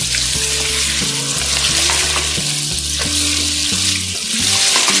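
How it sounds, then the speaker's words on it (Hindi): Chicken pieces frying in a pan for a chicken aloo gosht curry, a steady loud sizzle throughout with occasional stirring scrapes and clinks, close and continuous with no talking. "1 मिनट तक हम इसको और फ्राई करेंगे ताकि अच्छी तरह फ्राई हो जाए।"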